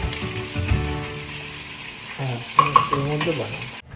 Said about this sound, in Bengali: নব অলরেডি আলু ভাজতে শুরু করে দিয়েছে।